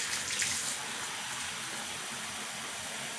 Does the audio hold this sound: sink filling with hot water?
yes